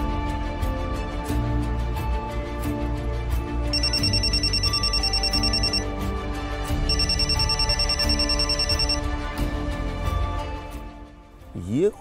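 A telephone rings in two repeated electronic bursts over a steady music score in an Odia TV serial scene, with the ring fairly loud against the background.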